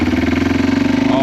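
A cheap, previously broken ATV engine, just repaired, runs in a close, loud, steady pulsing idle right after firing up.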